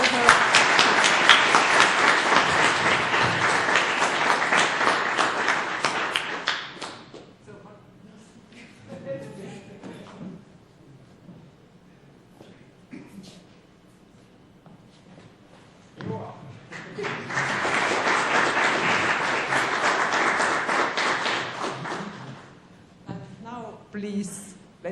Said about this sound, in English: let's make big applause for her